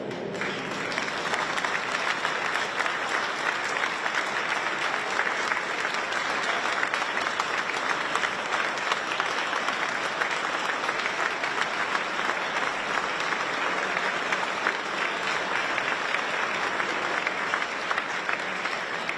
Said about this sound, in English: I really thank you for standing. I thank you for your applause.